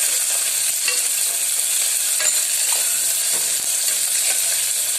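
Chopped shallots sizzle steadily in a hot pan for a soya chunks gravy, a constant close frying hiss with faint stirring scrapes.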